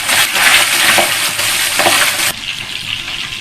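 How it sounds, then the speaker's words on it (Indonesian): Boiled chicken fries in a pan for shredded basil chicken. A loud, steady close-up sizzle drops to a quieter hiss partway through, with no talking. "setelah ayamnya selesai direbus, kemudian ayamnya kita goreng"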